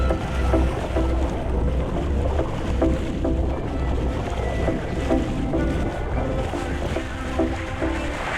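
A sailboat under way at sea, with steady wind rush buffeting the microphone and waves washing against the hull, a continuous broadband roar with no speech.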